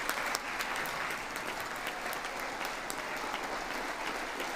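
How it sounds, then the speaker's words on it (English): Scattered applause in the chamber during a presidential address to a joint session of Congress, a sustained, moderately loud clatter of claps heard from a distance. "The smattering of applause of little, like, claps from some Republicans, but not everyone."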